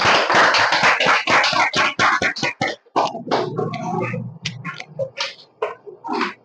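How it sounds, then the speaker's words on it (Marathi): Loud applause from a crowd at a weekly lottery prize draw, dense rapid clapping for the first few seconds, then thinning into scattered claps with a low murmur underneath. "जोरदार टाळ्या होत्या"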